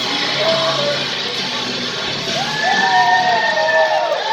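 A wrestling crowd roars steadily, with rising yells and whoops breaking out over the constant din as a wrestler hypes up the audience.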